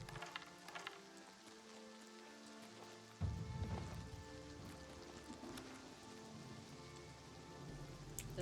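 Steady rain patters over a surface in the Oblivion remake, soft at first and then swelling into a louder, denser downpour with low rumbling midway, with no one talking.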